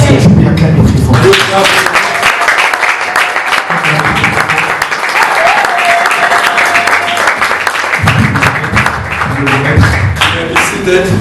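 A church congregation at a French-language prophetic service applauds loudly, a dense sustained roar of clapping and crowd noise lasting several seconds, with a voice speaking over the start and end.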